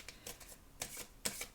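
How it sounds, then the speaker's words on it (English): A deck of tarot cards is shuffled in quick riffling bursts, four or five crisp flutters spaced irregularly, close and clear with no talking. "as I pre-shuffle the cards and I fly all over the place"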